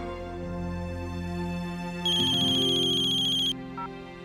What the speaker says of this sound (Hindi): क्या है नैतिक, क्यों फोन कर रहे हैं आप मुझे?